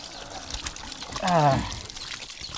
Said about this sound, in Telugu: మన చేతులు అయితే చక్కగా కడుక్కోవాలన్నమాట నీట్గా. ఇప్పుడైతే కడుక్కుందాం.